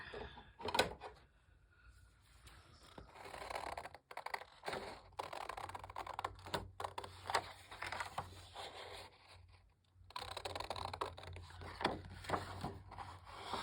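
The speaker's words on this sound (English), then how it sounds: "I'm just cutting it around the tag shape." Scissors snip around a paper tag shape decorated with flowers and lace, a run of dry close-up cuts and rustles of paper with short pauses between strokes.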